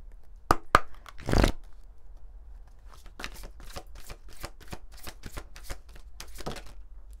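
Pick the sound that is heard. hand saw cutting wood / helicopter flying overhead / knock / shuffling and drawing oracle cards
shuffling and drawing oracle cards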